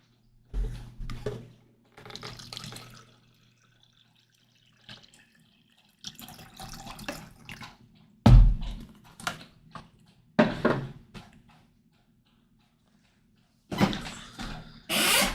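Water runs from a tap to refill a container, coming in several separate bursts of rushing flow with quiet gaps between them, close and moderately loud, with no talking.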